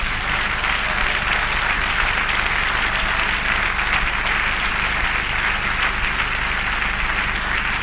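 A church congregation applauds during a worship service, a dense, steady wall of clapping that fills the whole stretch at a loud, even level without pause.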